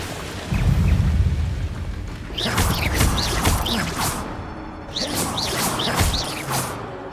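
Incendio fire spell in Hogwarts Legacy: a low whooshing burst of flame, followed by repeated crackling, sizzling bursts in two rhythmic clusters, loud and close with rushing fire texture.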